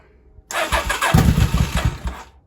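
A 1983 Honda Shadow VT motorcycle engine cranks and catches with the choke off, firing into a loud, rough running burst that chugs unevenly before settling, heard alone up close with no talking.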